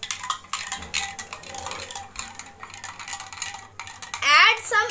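A spoon stirs lemonade in a glass, giving repeated light metallic clinks and scrapes against the sides at a quick irregular pace, with a short voice near the end.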